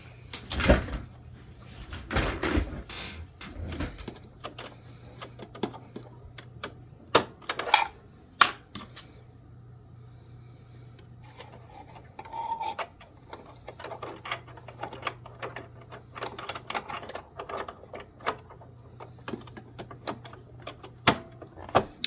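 Parts of a serger are handled while its foot is swapped for a ruffle foot, giving a scattered series of close, sharp plastic and metal clicks, snaps and taps separated by quiet gaps.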